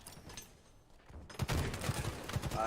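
Halo video game gunfire: a quiet lull breaks into a dense burst of rapid shots and impacts, loud and close, continuing to the end with no talking.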